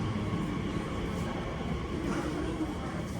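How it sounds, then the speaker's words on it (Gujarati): An Elizabeth line train pulls into a London platform, giving a steady, loud rumble and rolling hum that carries on without a break from start to finish. "જો ટ્રેન આવી ગઈ છે એલિઝાબેથ લાઇન"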